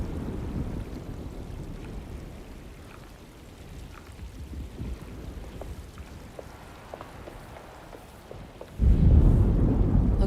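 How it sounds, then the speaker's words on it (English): Deep rumbling thunder of an approaching storm in the video game Alone in the Dark, a low rolling growl with a sudden louder swell near the end. "Looks like a storm's coming."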